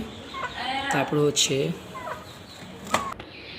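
Several short clucks from a chicken come in brief bursts, close by, with a few softer clucks and a sharp sound later on.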